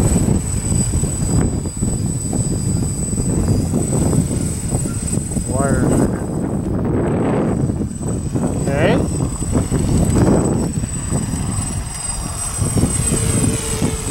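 Quadcopter drone with yellow front arms and white rear arms flying in circles to the right, a steady buzzing rotor whine running throughout, with a person talking over it.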